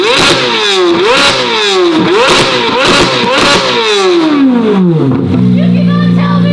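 A warmed-up car engine is revved hard several times in quick succession, each rising and falling whoop loud and close, before a long drop back to a steady idle.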